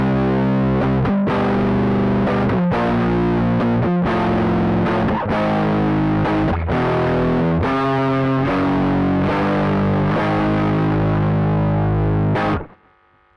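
Electric guitar played through a Raw distortion plugin in a Cubase setup, thick saturated chords and riffs ringing steadily and loud for about twelve seconds before cutting off abruptly, with no talking.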